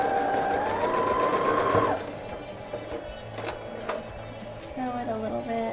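A sewing machine stitches the skirt of a Blythe doll dress, its steady motor whir running for about two seconds before stopping, with talk following afterward.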